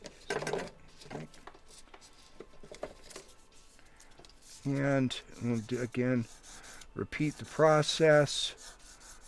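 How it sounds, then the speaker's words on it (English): A silver pendant is rubbed against finer-grit sandpaper in steady, rasping back-and-forth strokes, close and moderately loud, with a person speaking between and over the bursts of sanding. "sanding through the scratches from the previous step"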